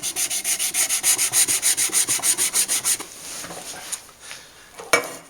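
Wet sanding of car clearcoat by hand with 800-grit wet and dry paper: about fifteen steady, even back-and-forth rubbing strokes up close, then a pause with a few faint handling noises and one sharp knock near the end.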